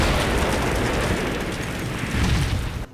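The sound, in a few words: artillery explosions in video game Combat Mission Black Sea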